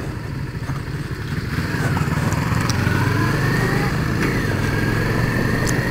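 A Yamaha MT-03 motorcycle engine hums nearby, growing louder and rising in pitch as it accelerates, with steady road noise and no clear speech.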